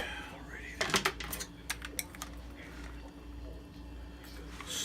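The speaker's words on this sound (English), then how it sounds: "You want to mix the salad up first." Salad being tossed and stirred in a bowl, a cluster of light clattering and clicking knocks early on, then fainter scattered taps over a steady background hum.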